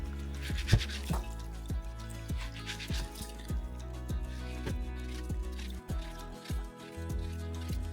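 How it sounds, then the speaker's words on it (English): Wet quinoa is rubbed between hands in rinsing water, giving a close, repeated rhythmic swishing and squelching, roughly two strokes a second with soft drips, steady throughout with no talk. "Rub the quinoa between your hands and keep going until the water is quite cloudy"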